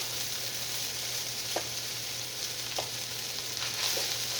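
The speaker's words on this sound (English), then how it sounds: "I have to stand over a pan when I'm frying rice" Steady, even frying sizzle of rice in a pan, with a few faint clinks or stirs breaking through now and then.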